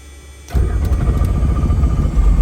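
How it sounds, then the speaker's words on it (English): A Robinson R44 II helicopter engine catches after a moment of near quiet, jumping into a loud, steady, close mechanical rumble that holds through to the end. "There it hit, mixture in, and there's the aircraft started."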